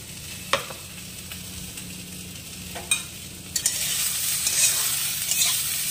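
Drumstick stems cook into a mustard and green chili chorchori in a pan. A few sharp utensil knocks over a soft sizzle give way to a louder, rising hiss of frying as stirring continues.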